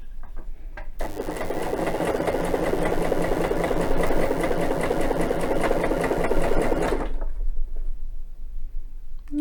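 A domestic sewing machine stitching a zigzag seam with a cord-attaching presser foot, a steady fast mechanical whirr and rattle running for about six seconds before stopping, close and alone.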